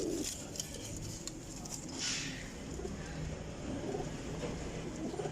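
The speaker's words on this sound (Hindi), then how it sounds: "यह कबूतर है भाईजान, बहुत ही अच्छा क्लास ना कबूतर है।" A pigeon, a teddy cross bred for flying, gives soft low coos amid faint ambient noise and scattered rustling, quiet and somewhat distant throughout.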